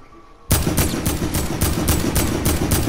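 Sudden burst of rapid automatic gunfire from an enemy in a shooter video game, loud and close with evenly spaced shots continuing to the end after a quiet start.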